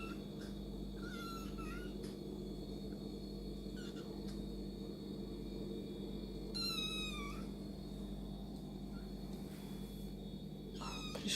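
A young pet cat gives a series of faint, drawn-out meows at intervals against a steady low background hum, with no talking heard.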